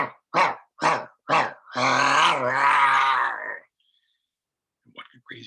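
A storyteller's voice imitates an enormous animal growl: a few short gruff grunts, then a long rumbling, throaty snarl that fades out, loud and close, followed by quiet.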